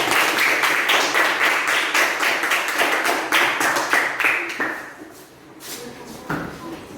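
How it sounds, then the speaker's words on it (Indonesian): Primary school pupils in a fifth-grade Christian religion class clap their hands in quick, loud, close rhythmic bursts for several seconds, then the clapping tapers off into a few scattered claps and room noise. "Beri tepuk tangan dulu."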